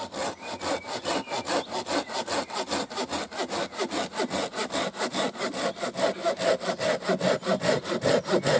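A hand saw cuts through wood in a series of quick, even strokes, each one a loud, close rasp that repeats steadily from start to finish with no talking.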